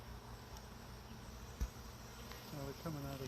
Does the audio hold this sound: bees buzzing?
yes